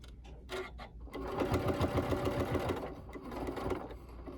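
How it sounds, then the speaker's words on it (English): A sewing machine stitches across the layered seams of a fabric tote bag in a close, steady run of rapid needle strokes, pausing briefly before resuming, with no talking. "all these layers of stitching are going to increase the strength of our tote bag"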